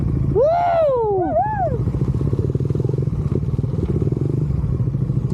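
A motorcycle riding along a rough mountain road in Atok, Benguet, a steady close engine rumble with rattling, while a person whoops loudly near the start.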